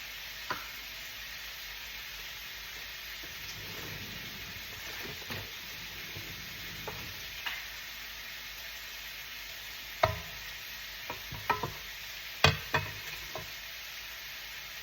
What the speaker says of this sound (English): we do 1 cup of sugar at the fry pan to make caramel